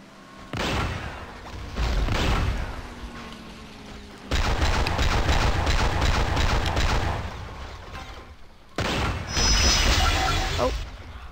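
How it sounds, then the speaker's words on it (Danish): Gunfire in a first-person shooter video game, repeated bursts of rapid shots and booms in three loud clusters separated by brief pauses, close and dense. "Så fejlede vi sgu lidt med skuddene."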